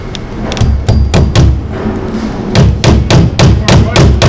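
A hammer drives nails into siding panels, with about a dozen sharp, close thuds landing in uneven bursts over a steady low background.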